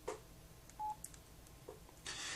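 Telephone dialing tones from a VoIP phone plugin, a few short separate electronic beeps over faint background noise, ending with a louder burst of hiss.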